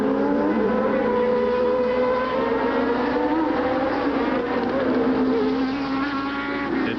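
Andrea de Cesaris's 1989 Dallara Formula One car racing at the German Grand Prix, a high wailing engine whose pitch climbs and shifts steadily as it passes, loud and continuous with crowd and track ambience beneath.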